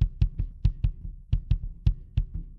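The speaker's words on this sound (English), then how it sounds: "Let's have a listen to our processed kick drum." A processed kick drum isolated from a live drum recording by ReMuse:KIT drum splitting: a dozen deep, punchy thumps in an uneven groove, each with a short click, clean and alone.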